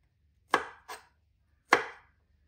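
Okra is chopped with a knife for an egg and okra fry: three crisp, close cutting thuds land on a board, two close together and one after a pause, with no talk.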